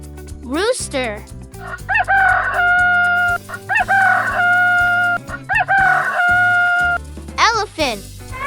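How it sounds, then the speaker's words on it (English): A rooster gives three loud, sustained cock-a-doodle-doo crows in a row, with shorter clucking calls before and after. "Rooster."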